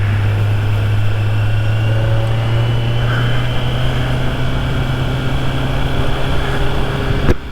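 A 2023 Kawasaki Z900 four-cylinder engine runs at a steady, fairly loud idle with a low, even hum, held close by, with no clear rise in revs; no talking.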